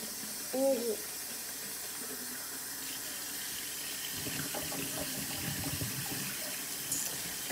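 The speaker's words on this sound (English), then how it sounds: "Fill some water to the lining." Cold tap water runs into a SodaStream bottle as a faint, steady hiss and splash, with a brief voice early on and louder gurgling toward the end.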